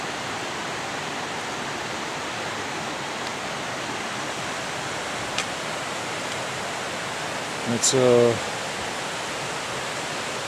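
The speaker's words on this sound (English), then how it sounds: "Ivan Thomas Creek, close to its spring." A mountain creek near its spring rushes steadily in a broad, even roar of flowing water, loud and close, with a brief spoken word breaking in near the end.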